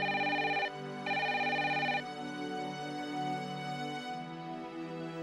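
A household telephone rings in two loud electronic bursts, the second longer, followed by quieter room tone with no talking.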